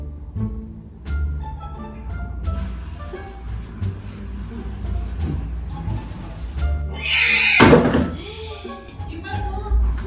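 A box is thrown onto the floor indoors, landing as a single sharp thud partway through, with people talking around it.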